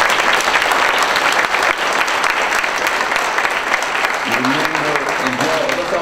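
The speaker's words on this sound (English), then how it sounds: "Let's give these candidates another round of applause." A room full of audience members applauds candidates at a Forsyth County, Georgia commission debate, with steady, dense clapping throughout and a voice starting to speak over it near the end.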